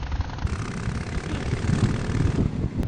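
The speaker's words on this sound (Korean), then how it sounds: "오랜만에 또 바이크 소리 들으니까 너무 좋네요" A motorcycle engine heard while riding, a continuous loud low rumble with wind-like roar and fluctuating throb, close and steady with no talk.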